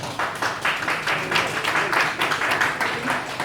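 A group gathered for a reunification meeting applauds as a guest comes forward, a steady wash of moderate clapping that runs throughout.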